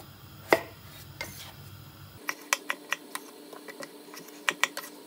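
Knife chopping potatoes into parts on a cutting board in a home kitchen, a quick series of sharp, close taps in uneven rhythm, quiet and alone after a brief soft rustle.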